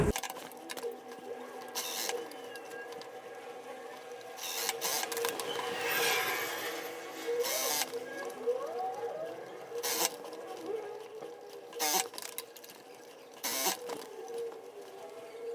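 A sewing machine runs in short bursts while stitching a skirt side seam, its mechanical whir stopping and starting at close range with brief pauses and small handling noises between runs.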